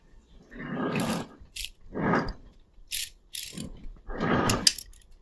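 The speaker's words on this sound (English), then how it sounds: "I'm going to do that by torquing these to 150 inch-pounds while turning the axle." A torque wrench ratchets in bursts while bolts are tightened on the rear end of an International Harvester 1256 tractor, giving close clicking pawl runs separated by short pauses and metallic clinks.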